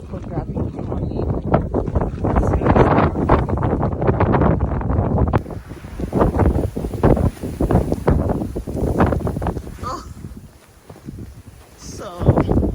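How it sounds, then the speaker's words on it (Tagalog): Strong winter wind gusting through a snowstorm in the Netherlands, a broad roaring rush with buffeting on the microphone that swells and drops across the whole stretch, while a person talks over it throughout. "super grabe yung hangin."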